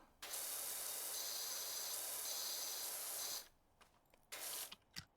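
A pressure washer in PowerWash Simulator sprays in a loud continuous hissing jet for a few seconds, cuts off, then bursts briefly again, with a faint tonal hum in the background.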